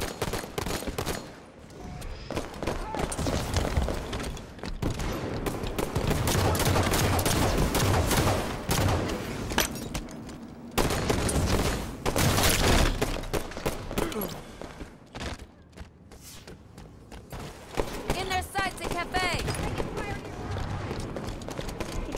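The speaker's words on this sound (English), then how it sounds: "Enemy fire." Dense, continuous gunfire and explosions from a Halo 5 multiplayer match roar almost nonstop, loud and close, with brief lulls and voices occasionally heard through the barrage.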